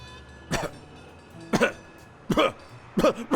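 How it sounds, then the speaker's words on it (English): Four harsh coughs spaced about a second apart, close and fairly loud, each a short rough burst with quiet between them. "You've got one nasty cough."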